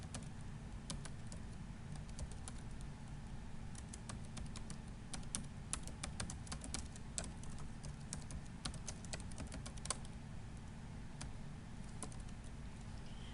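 Typing on a computer keyboard while entering a book title for a Word bibliography, quick irregular clicks of keys that come close and clear over a quiet room hum.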